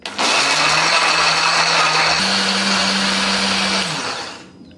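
A kitchen blender grinds chili, candlenut, turmeric, ginger, garlic and shallot with a little water into spice paste, its loud steady motor whine rising in pitch partway through before spinning down and stopping.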